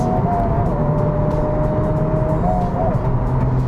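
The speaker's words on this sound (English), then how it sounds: "as you drive it higher up, above 3000 RPM, it absolutely sings." A Honda Civic Type R FL5 engine held above 3000 RPM, a steady, loud in-cabin drone with a faint rising whine, carried continuously over road noise.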